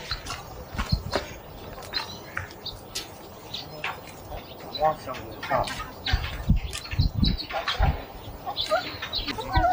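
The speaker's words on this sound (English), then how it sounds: "chickens love this grass right here" Chickens cluck and scratch around nearby amid rustling, shuffling movement and a few wing flaps, with scattered outdoor clatter throughout.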